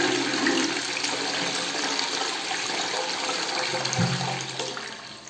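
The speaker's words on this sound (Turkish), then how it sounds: "Sifonu da çektikten sonra" A bathroom toilet flushes close by, water rushing steadily through the bowl and gurgling toward the end, with a brief knock partway through.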